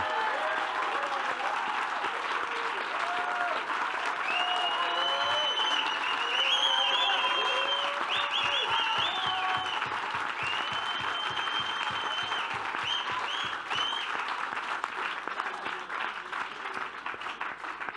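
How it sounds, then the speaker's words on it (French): A large audience at a political talk applauds at length, a sustained wash of clapping with cheers and voices rising over it and a brief rhythmic burst of unison clapping partway through. "On peut l'applaudir, un grand bravo pour Rima Hassan."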